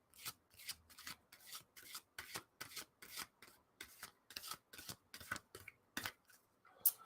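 A deck of new playing cards being bent and riffle-shuffled to break them in, a fast run of about fifteen crisp, papery riffle bursts in steady rhythm, close and alone with no talk.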